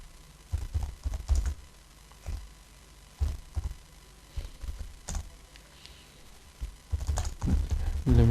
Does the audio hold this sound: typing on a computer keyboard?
yes